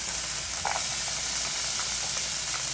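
Carrots go into a pot of simmering bouillon for a Mexican-style ground beef casserole, producing a constant steamy hiss and sizzle with a few soft clinks and splashes up close.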